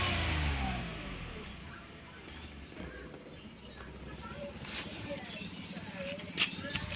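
A car engine turns over and catches, then idles and revs faintly in the background while people talk nearby.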